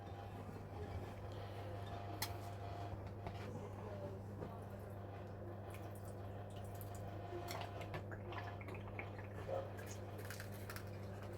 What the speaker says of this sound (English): Oh, you can hear those pieces shoot up the tube.